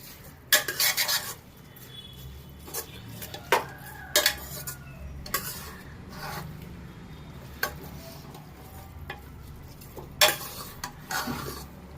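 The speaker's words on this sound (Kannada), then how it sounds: "ಅಕ್ಕಿ ಜೊತೆ ಕಾಳುಗಳನ್ನ ಒಂದು ಸತಿ ನೀವು ಆಯಿಲಲ್ಲೇ ಮಿಕ್ಸ್ ಮಾಡ್ಕೊಳ್ಳಿ" Rice and field beans being stirred in oil in a pan, with a series of sharp utensil scrapes and clinks against the pan, close and intermittent over a low background.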